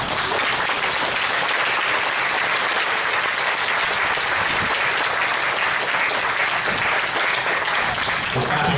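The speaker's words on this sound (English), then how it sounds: "Everybody clap for themselves at that." Audience applause filling the room at a talk about playing Superman, a dense, steady clapping that carries loud and unbroken from start to finish.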